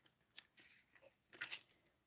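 Teflon-coated non-stick scissors snip twice, each a short crisp cut with a faint rasp of paper, heard alone and close.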